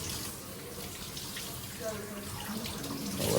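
Water runs steadily from a tap into a sink in a home, with light splashing that grows louder toward the end, while someone talks over it.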